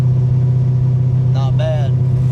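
A car engine drones steadily in fourth gear at about 1800 rpm, a loud constant low hum heard from inside the vehicle, with a voice speaking briefly over it.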